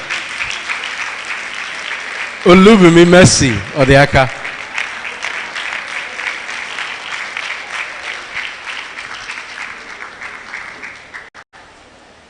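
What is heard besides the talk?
audience applause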